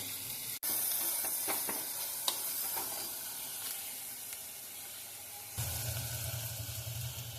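Tomatoes and green chillies frying with onions in a clay pot, a steady close sizzle and hiss with a few stirring clicks, then a deeper surge of frying sound near the end.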